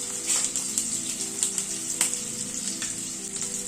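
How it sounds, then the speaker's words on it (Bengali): Three cut potatoes sizzle and crackle steadily in hot mustard oil in a kadai, a close, continuous frying hiss with scattered pops and no talking. "এখানে 3টে আলু আমি কেটে নিয়েছি, আলুটাকে আগে ভেজে তুলে নিচ্ছি"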